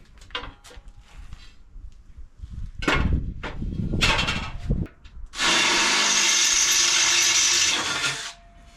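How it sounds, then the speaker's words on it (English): Power drill boring out holes for a go-kart build, starting with several short bursts and brief clattering, then one loud, steady run lasting about three seconds close by, with no talking. "Right, we'll drill these out first."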